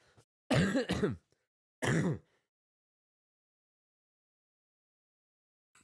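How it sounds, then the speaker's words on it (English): A man with a bug coughs and clears his throat in two close, harsh bursts, the first a quick double hack and the second a single rasp, followed by long silence. "Apologies if I keep coughing"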